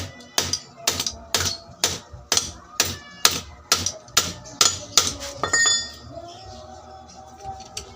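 Sharp metallic strikes ring out about twice a second, a dozen or so evenly spaced hammer blows on a dryer spin motor housing, close and bright, then a brief scrape and quiet.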